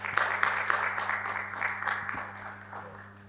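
Audience applause at a Portuguese-language club event, a steady patter of clapping from a seated crowd that fades slightly toward the end, with a low electrical hum underneath.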